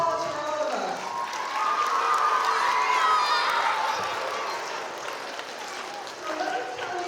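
Earth Day audience in Hudson applauding and cheering, a dense mix of clapping and crowd voices that swells loudly in the middle and then eases off.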